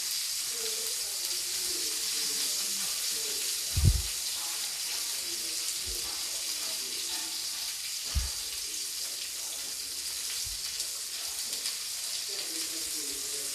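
Stuffed bitter gourd (karela), made without onion or garlic, sizzles steadily in a pan as pieces are turned over, with a few soft low thumps and clinks from the spatula over the continuous frying hiss; no talking.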